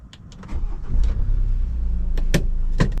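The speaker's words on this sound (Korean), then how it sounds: "엔진 스타트." A car engine starts up, settling into a steady low idle rumble after a short crank, close by, with a few clicks and light interior noises over it.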